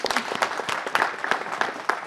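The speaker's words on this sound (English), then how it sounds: "please give her a round of applause for bringing her out tonight" A brief burst of applause in a city council chamber, many hands clapping together in a lively, even patter, close and fairly loud with no talk over it.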